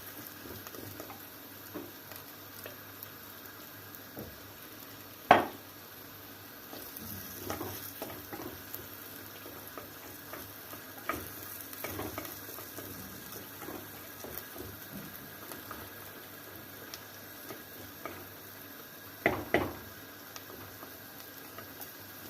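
Pepper paste and tomato paste sauté in a pan while chunks of meat cook nearby, making a quiet, steady frying crackle with scattered faint clicks and a couple of louder knocks, with no voices.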